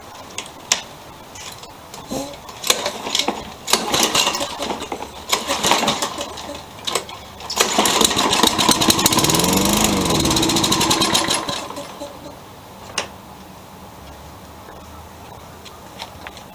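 A Toro lawn mower engine catches and runs, with scattered ticks and clatter at first, then a loud sustained roar for several seconds before it drops back to an idle-level hum.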